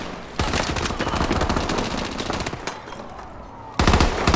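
Rapid assault rifle fire in the video game Call of Duty: Advanced Warfare, loud dense bursts crackling almost continuously, easing off briefly before a fresh burst near the end.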